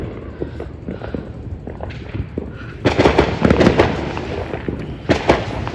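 Fourth of July fireworks in the United States crackle and pop in dense bursts, distant at first and then louder and closer, with faint voices in the background.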